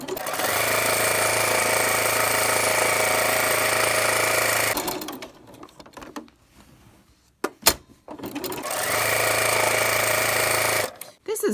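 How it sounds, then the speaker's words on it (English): A sewing machine with a walking foot stitches around the edge of a baby burp cloth, a loud, steady motor rattle that runs for several seconds, pauses with small handling knocks, then starts up again. "I will sew all the way around all 4 corners"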